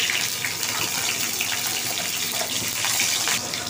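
Chilies drop into hot oil and fry with a loud, dense, steady crackling hiss that fills the short moment close up.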